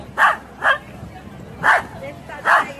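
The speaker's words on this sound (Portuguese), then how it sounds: "Chiquinho, olha o gato, o cachorrinho, Chiquinho." A small dog barks four times in short, fairly loud yaps spaced about half a second to a second apart, with faint background noise between them.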